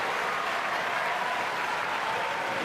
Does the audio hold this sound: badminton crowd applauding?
yes